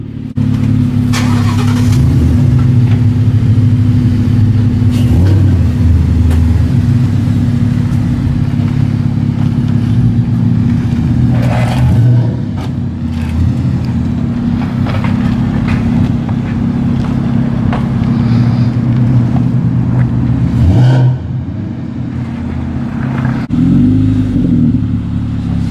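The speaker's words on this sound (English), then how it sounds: "I'm gonna take the Mustang out and do flybys like right here." A Ford Mustang roars loudly through a sustained, rising engine rev during a flyby, the exhaust drone staying strong and close before easing briefly near the end, with no voices over it.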